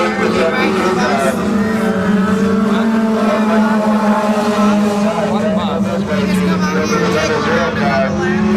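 Race cars circling Crystal Motor Speedway in Michigan, engines droning loudly and continuously with rising and falling pitch as cars pass, under a steady announcer's voice and crowd noise.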